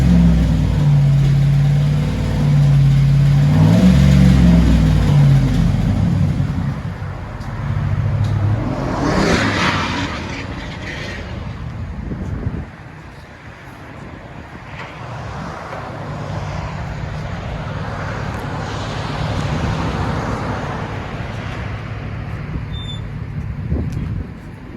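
A 2008 GMC Yukon with a 5.3L V8 and dual exhaust, muffler and resonator deleted, rumbles loudly at first with a low engine drone, then settles to a quieter steady idle hum with some passing engine swells.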